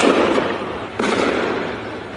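Gunfire in news footage rings out as two loud bursts with long, rumbling echoes, one at the start and another a second later, each decaying into noisy reverberation.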